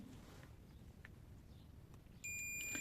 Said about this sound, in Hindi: अगर वायर जा रही होगी ऊपर तक तो बीप साउंड देखने को मिलेगा